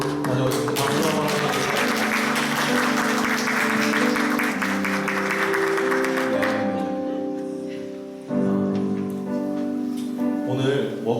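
A church congregation at a Sunday service claps warmly for about six seconds over steady sustained musical tones. The applause then fades, leaving the music and faint voices.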